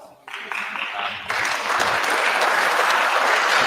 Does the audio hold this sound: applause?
yes